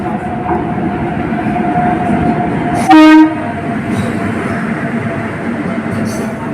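Train at Chandigarh railway station: a steady rolling rumble of rail cars runs throughout, broken near the middle by one loud, brief train horn blast.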